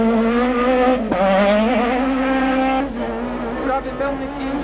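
A rally car driven by Janusz Kulik roars at high revs, its engine pitch climbing and dropping through gear changes as it approaches and passes, loud and steady, with a commentator speaking over it.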